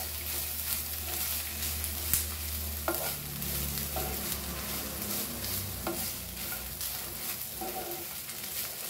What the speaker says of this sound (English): Now we'll add the garlic also and roast this all masala.